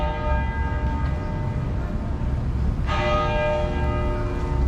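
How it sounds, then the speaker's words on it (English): A church bell tolls at Chippewa Square in Savannah, Georgia, heard outdoors as steady ringing tones with a fresh strike midway, over constant low traffic and city hum. "Bell tolling and everything."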